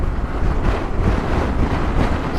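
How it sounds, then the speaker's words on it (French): Strong wind roars and buffets the microphone in a continuous low rumble, with gusts rising and falling throughout. "Il y a beaucoup trop de vent là."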